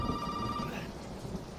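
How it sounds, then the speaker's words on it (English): A telephone rings in Resident Evil 7, a short electronic tone over a rumbling rain and thunder backdrop, heard once briefly before fading into the storm noise. "Now I know where the fucking phone is when it rings"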